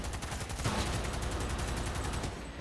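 Rapid gunfire from a gun in the video game Cyberpunk 2077, a dense, loud burst of repeated shots rattling steadily for nearly three seconds with no voice over it.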